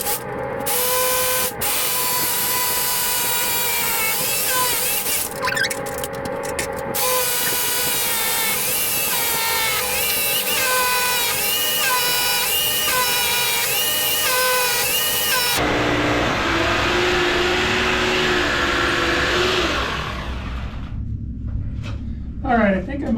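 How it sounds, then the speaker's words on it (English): A rock drill bores into stone in a mine, whining with a steady pitched drone and rattling, broken by brief bursts and pauses, then shifting to a rougher, lower grind near the end; close, loud and continuous. "So I will get set up, start drilling."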